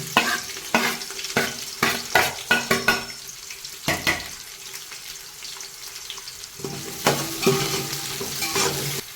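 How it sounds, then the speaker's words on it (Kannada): Chopped onions and green chillies, added to cardamom in hot oil for biryani, frying with a loud sizzle while a spoon scrapes and stirs in sharp repeated clatters, with no talking. "ನಾಲ್ಕು ಈರುಳ್ಳಿ ಕಟ್ ಮಾಡಿ ಇಟ್ಕೊಂಡಿದ್ದೀವಿ ಹಾಕ್ತಾ ಇದ್ದೀನಿ ಹಾಗೆ ಒಂದು ಐದು ಮೆಣಸಿನ್ಕಾಯಿ"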